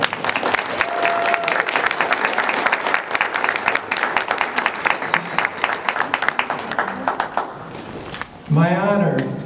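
Applause for a graduate at a high school winter commencement, a loud sustained crowd clapping that tapers off near the end before a voice starts talking over the last moments.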